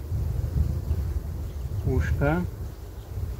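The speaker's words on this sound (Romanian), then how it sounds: "În schimb aici au intrat și câteva albine, au reușit să intre ele pe undeva." Honeybees buzz on a hive frame holding queen cages, a steady insect drone close to the microphone with brief voice sounds in the middle.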